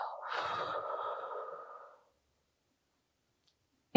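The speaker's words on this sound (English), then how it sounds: "Breathe in for a few seconds and exhale." A single long breath during breath work, a slow airy inhale or exhale lasting about two seconds, then near silence before a sharp click at the end.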